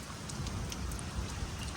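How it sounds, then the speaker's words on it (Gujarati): Dense rain pours down steadily in a storm, a constant hissing wash with scattered heavier drops, fairly close and unbroken throughout. "ભયંકર ધોધમાર વરસાદ સાથે વાવાઝોડું"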